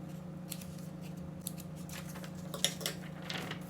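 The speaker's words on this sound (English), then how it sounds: "Cut out the extra part of your minutes paper so that you can keep them in minutes book binder" Scissors cut through sheets of meeting minutes paper in a series of crisp snips that grow denser toward the end, close and clear over a steady low electrical hum.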